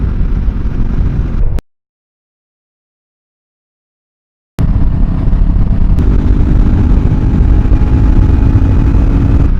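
Steady roaring wind buffets a helmet-mounted microphone on a motorcycle ride, with a low engine drone beneath. The sound cuts to total silence for about three seconds, then the loud rush returns.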